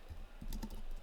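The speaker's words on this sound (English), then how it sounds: "Sorry for the slow typing." Slow typing on a computer keyboard with a microphone placed right in front of it: soft, close, uneven key taps in a short continuous run.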